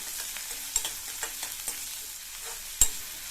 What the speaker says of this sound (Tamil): இந்த வெங்காயத்தை லைட்டாக வதக்கி விட்டால் போதும்